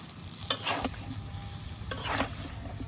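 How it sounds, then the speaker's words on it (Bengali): Spices, onion and vegetables stir-fried together in a pan for a koi fish curry, giving a soft steady sizzle close by, broken by a few sharp scrapes and clanks of the stirring spoon. "এখন আমি মশলা পেঁয়াজ যা আছে সব আমি সবজির সাথে মিশিয়ে দেবো মিশিয়ে আমি সুন্দর করে কষাই নেব"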